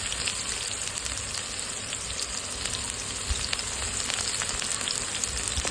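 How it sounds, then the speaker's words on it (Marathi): Onion goes into a pan where garlic is already browning, and both fry with a dense, even sizzle that stays loud and steady throughout, with no talking. "लाल झालेला आपण आता याच्यामध्ये कांदा टाकून घेऊ"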